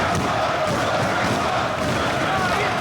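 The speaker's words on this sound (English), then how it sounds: "The crowd chanting for Sugarfoot as Bryan Danielson's back to his feet" Wrestling crowd in an arena chanting for Sugarfoot, a loud, dense, continuous roar of many voices filling the whole moment without a break.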